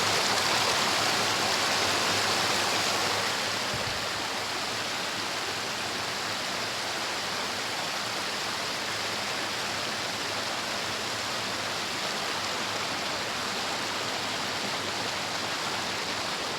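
Flowing water of a stream at a place called 3 Mohari, a steady, loud rushing wash that runs the whole time. It is slightly stronger in the first few seconds, and no voices are heard.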